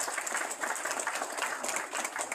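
Audience applause at a morning business gathering honoring local business leaders, a dense, continuous patter of many hands clapping at moderate volume from the room, without voices.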